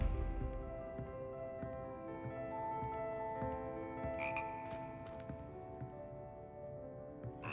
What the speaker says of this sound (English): I thought I heard a frog.